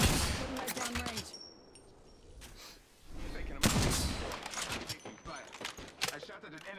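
Gunfire in a video game, dense crackling bursts of rapid shots and scattered single reports, loud and busy, with a player talking over the fighting.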